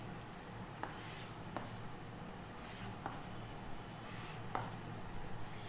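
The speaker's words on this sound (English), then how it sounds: "So here I am going to draw an angle." Marker or chalk strokes drawing an angle on a classroom board during a seventh-grade maths lesson, a few brief scratchy scrapes spaced several seconds apart over a steady low room hum.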